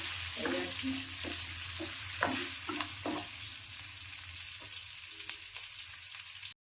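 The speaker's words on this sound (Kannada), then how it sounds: "ಕರ್ಬೇವು ಹಾಕೊಂಡಿದ್ದೀನಿ" Curry leaves crackle and sizzle in hot tempering oil for khara pongal, a steady bright frying hiss with a few sharp pops and spatters, close and alone, ending abruptly.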